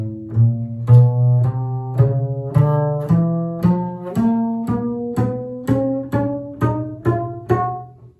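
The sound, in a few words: bass played rushing too fast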